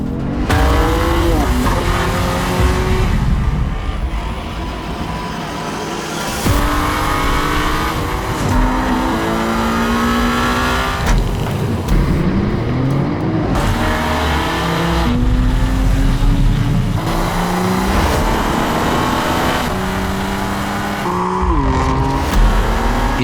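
A BMW M4 Competition and an E30 M3 drive hard, with loud engine notes that climb and drop through repeated revs and gear changes, sweeping pitch glides, and a constant roar that stays close throughout.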